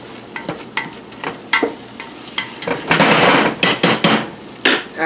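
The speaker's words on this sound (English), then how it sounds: "Stir this meat around, make sure it's getting well done." Ground meat for chili frying in a pan as a utensil stirs and scrapes it, giving repeated knocking strokes over a soft sizzle that grows busier midway.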